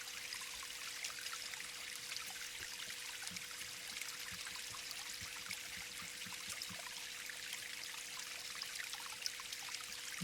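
Flowing water in a Unity HDRP forest environment demo with a waterfall, a soft steady trickling and pouring stream with a faint tonal hum beneath, fairly quiet and continuous, no voices.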